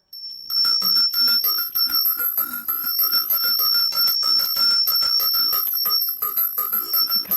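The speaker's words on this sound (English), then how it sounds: "We'll just take a moment to ring the bell." A bell rings with a sustained, shimmering high tone, ringing on steadily with gentle swells and no voices.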